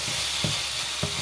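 A spatula scrapes and stirs pancit espesyal with chicken in a hot pan, with a few distinct strokes over a steady, loud sizzle.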